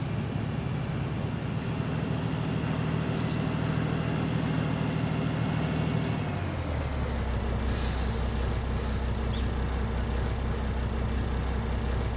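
A truck in Farming Simulator 19 rumbles steadily at close range, its engine tone dropping around midway, followed by a couple of brief hissing air-brake bursts near the end.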